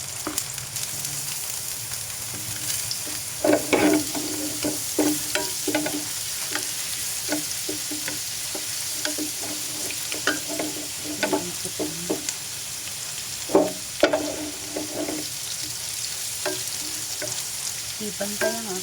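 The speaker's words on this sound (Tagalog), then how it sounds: "Pwede na natin sabayin yung luya and bawang." Ginger and garlic fry together in a hot pan, a steady sizzle broken by repeated scraping and stirring clatters, close and fairly loud with no talking.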